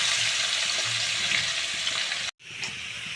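Potatoes fry in a pan in oil for a Bengali eggplant-and-hilsa dish, giving a steady, close, loud sizzle with light stirring scrapes that cuts out briefly near the end before resuming.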